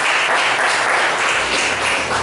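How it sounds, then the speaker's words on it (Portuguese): A church congregation claps for Jesus at a worship service, producing a short, dense burst of mixed applause that stays fairly even throughout, with no voices over it. "Dá uma salva de palmas que é para Jesus."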